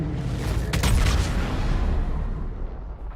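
An explosion shock wave from the Mass Effect 3 video game, a deep booming rumble with a few sharp crackling bursts early on, rolling on and fading away toward the end.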